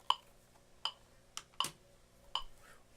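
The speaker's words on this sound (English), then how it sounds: "turn on the metronome" A metronome set to 80 gives faint, crisp ticks at a steady pulse, with a couple of softer clicks in between, heard alone.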